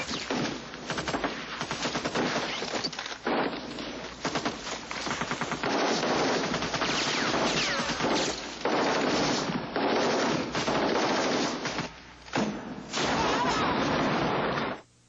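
Sustained machine gun fire from the 1986 war film Heartbreak Ridge, Marines shooting up banana trees in Grenada: loud, dense, rapid bursts running almost continuously with only brief gaps.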